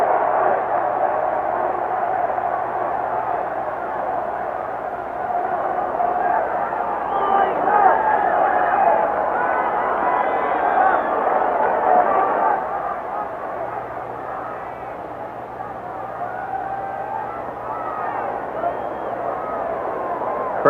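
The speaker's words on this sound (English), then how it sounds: "Crowd continues to chant, beat LA." A dense football stadium crowd at a 1984 USFL Western Conference Championship between the Express and Wranglers chants steadily, a continuous roaring wash of voices that swells midway and holds loud throughout, with no clear individual speech.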